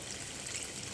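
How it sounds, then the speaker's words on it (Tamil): Water is poured into a pan of chicken masala while cooking, a quiet, steady splashing hiss that runs evenly with no talking. "இன்னும் கொஞ்சோண்டு மட்டும் தண்ணி ஊற்றி வேக வைக்கணும்."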